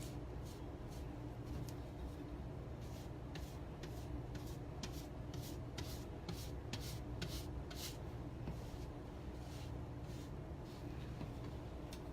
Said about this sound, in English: The Dixie Belle OS, so that's the oval small, dry brush.